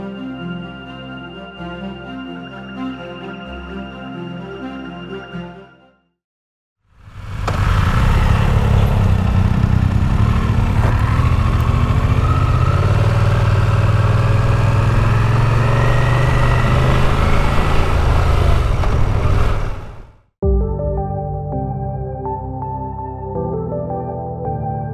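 Motorcycle engine droning loud and steady for about fourteen seconds on a ride from Seward to Valdez, Alaska, with wind rush, set between stretches of music.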